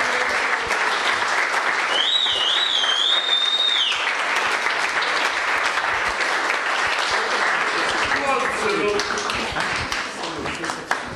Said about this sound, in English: A round of applause for Cyril.